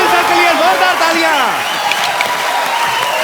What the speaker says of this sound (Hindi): अनिल सर के लिए जोरदार तालियां